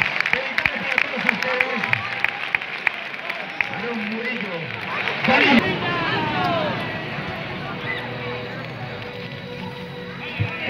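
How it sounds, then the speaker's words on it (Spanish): Crowd applause and cheering at an outdoor street talent contest in La Vall d'Uixó, a broad wash of clapping and hubbub running under an excited commentator's voice throughout. "Y ese fuerte aplauso"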